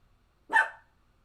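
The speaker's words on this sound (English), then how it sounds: "Why are you barking?" A dog gives a single short, loud bark close by, with quiet all around it.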